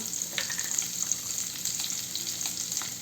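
Chopped onion fries in a pan as the start of a dried-fish curry. A brief, moderately soft sizzle crackles continuously, with light irregular pops and no talking.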